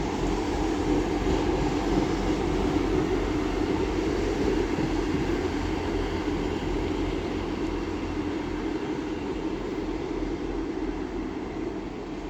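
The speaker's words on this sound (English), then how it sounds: "Now pulling in is a Class 158 for Northern, which is terminating here from Hull." A Northern Class 158 diesel unit arrives at Doncaster station on its way in from Hull, a loud, continuous low rumble and hum of engine and wheels, steady and close, with no talking.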